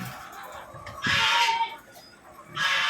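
Laying hens on a home farm cluck and squawk in two loud bursts separated by a brief lull, close by with soft background farmyard noise.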